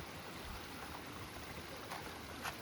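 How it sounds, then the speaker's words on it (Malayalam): A calm river flows gently at Kuthungal in Idukki, giving a faint, steady, low wash of moving water heard from nearby with no voices. "ഈ ഒരു പുഴ ഇങ്ങനെ ശാന്തമായിട്ട് കിടക്കണ്ടോ"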